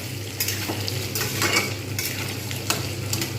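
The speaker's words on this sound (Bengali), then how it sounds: "আলুগুলো কিন্তু খুব সুন্দরভাবে ভাজা হয়ে গেছে।" Potatoes and onion fry in a pan under a constant sizzle, with a spatula stirring and scraping in several distinct strokes over the crackle.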